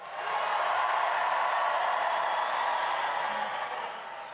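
Supporters at a New York City mayoral election victory rally burst into a sustained, dense wave of applause and cheering that fills the hall loudly for several seconds before easing slightly toward the end.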